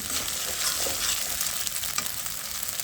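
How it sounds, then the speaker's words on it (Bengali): Spiced ground paste frying in a pan for a cauliflower and fish curry, a steady dense sizzle with soft scraping from continuous stirring, close and even throughout. "মশলাগুলো দিয়ে কাঁচা গন্ধ যাওয়া পর্যন্ত আমি সুন্দর করে নেড়ে চেড়ে দিচ্ছি"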